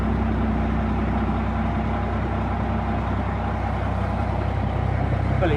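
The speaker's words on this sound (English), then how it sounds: "what a lovely engine. got the diesel Cummins" A Cummins diesel engine in an APC 432 armoured vehicle idles steadily up close, a low, even rumble with a constant hum and no change in pace.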